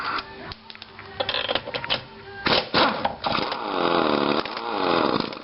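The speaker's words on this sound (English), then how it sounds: "You should be able to control your impact wrench" A pneumatic impact wrench works on Corvette lug nuts, giving rattling, hammering bursts controlled by the trigger and rising and falling in speed, loud and near, with a compressor whine running underneath.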